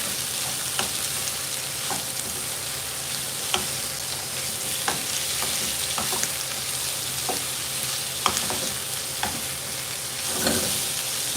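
Celery, asparagus and beans stir-fried together in a pan, a steady bright sizzle running throughout, broken by repeated short scraping clicks of stirring at an irregular rhythm, close and moderately loud with no talking.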